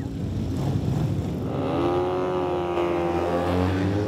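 A BMW racing motorcycle with an 800 cc engine, tuned for more speed, revs loudly and close by; the engine's pitch climbs steadily through a continuous, sustained roar.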